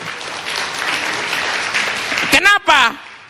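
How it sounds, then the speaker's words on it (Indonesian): Audience clapping at an Indonesian stand-up comedy show, a steady wash of applause that builds slightly before a voice speaks loudly over it near the end. "Tepuk tangan."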